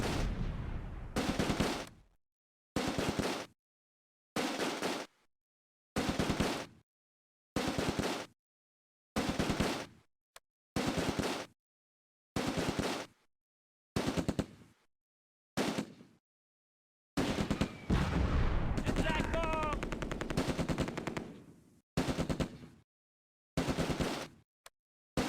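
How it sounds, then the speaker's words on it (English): Bursts of gunfire from a BAR squad, a rifle squad and a Sherman tank in the Close Combat war game, set around Operation Market Garden, come in a long series of loud, evenly spaced volleys, with a longer sustained burst near the end. "The Germans in the open are under concentrated fire from a BAR squad, a rifle squad, and a Sherman tank."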